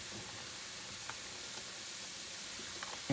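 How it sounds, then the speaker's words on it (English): Soft, steady sizzling of ground beef frying in a pan, a continuous hiss with faint crackles, close and quiet. "The ground beef is coming along great. Sizzle, sizzle."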